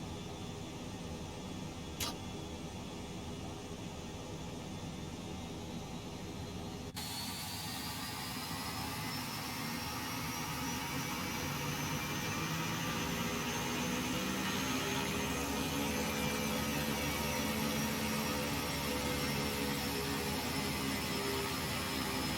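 Beechcraft King Air C90B turboprop taxiing in X-Plane 12 at Mesa Falcon Field, Arizona, a steady droning engine hum with a rising high whine, continuous and close, with no talk.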